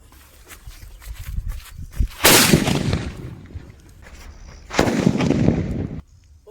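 A Kannan atom bomb firecracker from Sivakasi goes off with two sharp, loud broadband blasts a few seconds apart, with quieter rustling and thumps before and between them.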